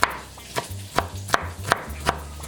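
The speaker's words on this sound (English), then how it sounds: "I'll just be cutting this into little segments" A knife chops food into little segments for Spam fried rice, with six crisp, evenly spaced cuts on a board about a third of a second apart, close and clear with no talking.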